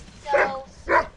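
Two sled dogs bark in turn at a lodge kennel on the Denali Highway in Alaska, two short barks about half a second apart, moderately near against a quiet outdoor background.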